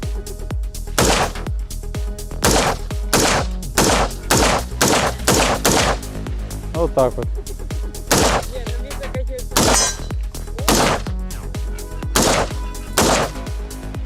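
Gunshots ring out in a steady series of loud, sharp reports, roughly one per second, with brief pauses and a few quiet words spoken between them.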